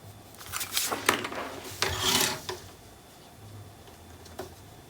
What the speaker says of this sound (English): So I'm going to trim it down